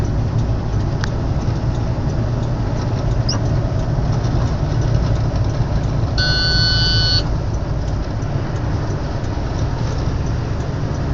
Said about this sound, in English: First thing we have to do is get into a lower gear.